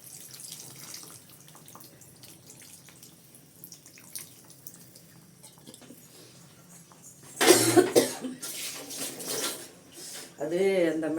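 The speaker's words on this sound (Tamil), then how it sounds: "அது அந்த மிளகாத்தூள் போடுறோம்ல, அது வந்து இருமல் வரதான் செய்யும்" A short burst of coughing, set off by chili powder fumes while eggplant kuzhambu cooks, breaks through midway, loud and close, amid kitchen clatter, liquid sounds and a speaking voice.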